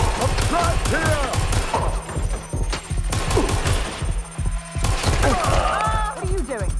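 Rapid, loud bursts of gunfire in Watch Dogs Legion crackle up close amid a busy mix of impacts and game noise, pausing briefly between volleys.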